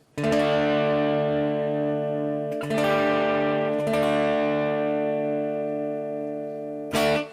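A sustained, slightly gritty bass-heavy guitar tone through a compressor and hall reverb rings out with long notes, a few fresh attacks, and a spacious reverberant tail.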